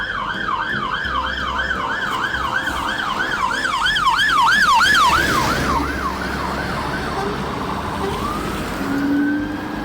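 A wailing fire engine siren rises and falls rapidly, loud and close, then drifts away while traffic rumbles in the background on a cold, rainy Glasgow street.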